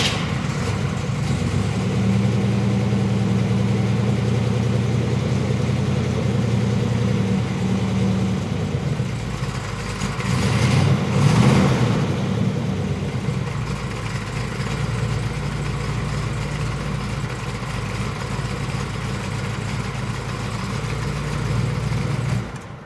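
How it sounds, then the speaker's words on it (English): A 1969 Chevelle SS396 V8 with the hood open, running at a steady idle with a brief swell of revs partway through before settling back to an even, smooth rumble; no talk. "Why don't we start it real quick while we have the hood open?"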